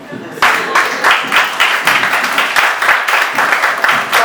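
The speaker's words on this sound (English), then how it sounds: "Give a round of applause." Dense applause from a comedy club audience, many hands clapping steadily and fairly loud throughout, starting abruptly after a brief moment of quiet.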